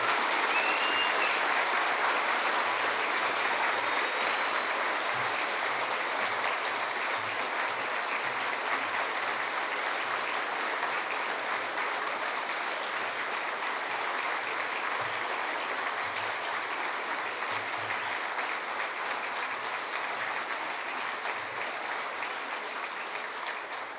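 A school awards ceremony audience gives sustained applause for award recipient Claire Fitzgerald, a dense, even roar of many hands clapping that holds steady for over twenty seconds with no talking.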